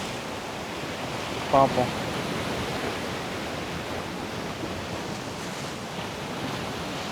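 Ocean surf washes onto a beach along the East Coast Road (ECR), a steady, continuous roar of breaking waves with a brief voice speaking over it.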